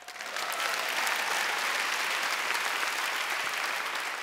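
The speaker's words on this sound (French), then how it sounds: "Applaudissez si vous êtes d'accord" A comedy-show audience breaks into applause after a mock political pitch, and the clapping swells quickly into a loud, steady, even wash that holds without talk.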